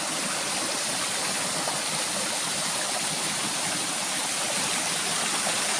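Steady rushing of stream water flowing continuously, loud and close, with no pauses or voices.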